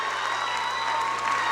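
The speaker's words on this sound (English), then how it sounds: "One more large round of applause for all of the recipients on stage, all of the parents, all of the donors" Audience at a 2019 scholarship night ceremony applauds the recipients on stage, producing a dense, steady round of clapping that holds evenly throughout without a break.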